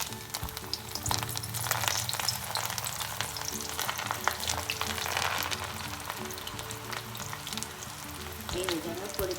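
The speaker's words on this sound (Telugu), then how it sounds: "ఇప్పుడు మనం తోటకూర పకోడీ వేసుకుందాం." Amaranth leaf (thotakura) pakoras deep frying in hot oil, a steady dense sizzle and bubbling with faint clatter, continuous and close throughout.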